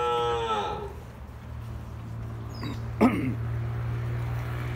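Dairy cows on a farm in Jocoro give a long low moo at the start, then another short bellow midway, over a steady low mechanical hum, with no talking.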